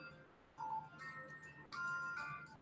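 A phone rings indoors with bright, repeating electronic tones in two bursts, the second louder and longer, fairly close, with no talking.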